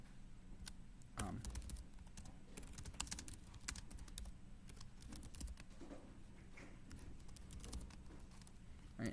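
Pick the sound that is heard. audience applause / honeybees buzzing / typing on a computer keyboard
typing on a computer keyboard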